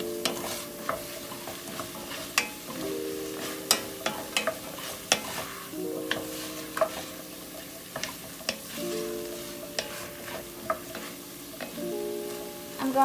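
Carrots fry in a stew pot with beef drippings while a spoon scrapes and stirs them, giving a steady close sizzle broken by sharp repeated clinks and scrapes of utensil against the pot, with no talking.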